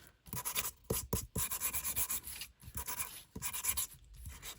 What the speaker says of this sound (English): sand the edge